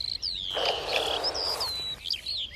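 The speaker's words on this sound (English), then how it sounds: "he tries to frighten them off with a hiss" A sharp, breathy hiss from a nightjar lasting over a second, with thin whistling bird calls before and after it, in the Puszta.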